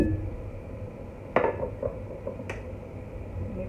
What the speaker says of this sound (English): Once our soup came to the boil, removing our lid